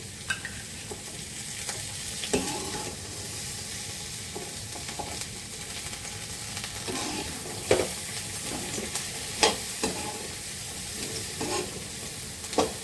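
Ingredients fry with a steady sizzling hiss in a pan while a utensil stirs them, adding scattered scraping clicks and taps throughout; nobody speaks.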